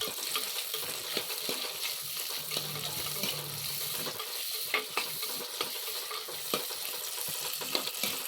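Dried red chilies and curry leaves sizzle in hot oil in a pan for an amaranth greens curry, with a steady crackling fry and scattered spoon clicks as they are stirred, alone with no voices.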